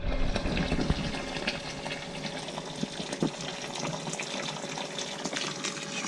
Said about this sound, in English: You can see we're just filling up the mash tun.